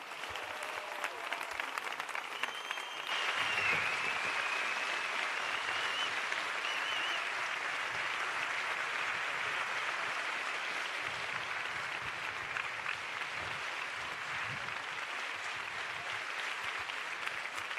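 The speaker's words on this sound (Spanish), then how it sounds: "yo siento interrumpir los aplausos que sin duda se merecen interminables" Sustained audience applause fills a political rally in Seville, a dense, steady wash of clapping from a large crowd that swells after a few seconds and holds evenly to the end.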